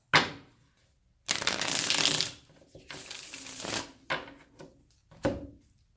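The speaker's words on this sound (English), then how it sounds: "One more shuffle, and then I'll cross." Tarot cards being shuffled by hand in several separate bursts, close and crisp, with papery riffling rattles broken by short pauses and a few lighter card taps near the end.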